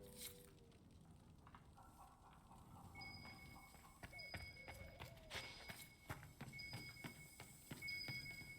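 Horse hooves clop unevenly at a moderate distance against a quiet game-like ambience in Dragon Age: Inquisition, from a Ferelden Forder horse, with faint tonal chimes in the background.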